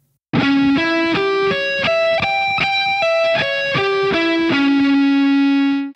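Distorted electric guitar sweep-picking a rising and falling arpeggio, each note sharply picked in an even rhythm, loud and close with no talking, the last note sustained.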